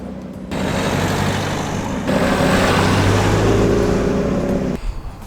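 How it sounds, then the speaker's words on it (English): Road traffic passes close by on a roadside during a car photo shoot: a loud, steady engine-and-tyre roar that swells midway, then cuts off near the end. "the same couldn't be said of the other traffic that suddenly appeared"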